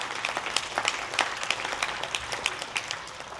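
A conference keynote audience claps for itself, a moderate wash of applause with distinct individual hand claps popping out unevenly, fairly close and without talk.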